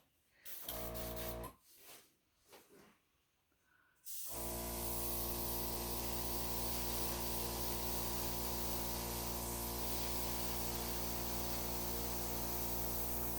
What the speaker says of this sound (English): I'm actually going to try and use my airbrush to get a little bit more definition with the petals